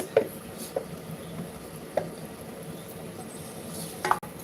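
A macaroni dish is stirred in a pan, with a few sparse scraping clinks of a utensil against the pan over a faint background hiss.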